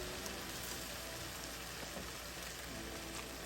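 Butter sizzling in a cast iron pan alongside pork and onions, a steady, faint crackling hiss with scattered pops, continuous and without talk.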